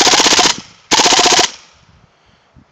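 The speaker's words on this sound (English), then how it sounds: "MP7A1 without the silencer" KWA MP7A1 airsoft gun firing without a silencer, two loud, close full-auto bursts of rapid cracks, each about half a second, followed by faint handling noises.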